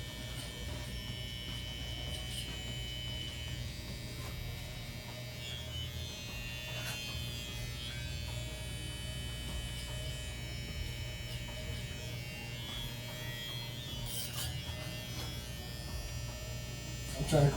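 An electric beard trimmer buzzes steadily as it cuts through beard hair, a continuous, fairly soft electric drone that holds for the whole stretch with slight shifts in tone.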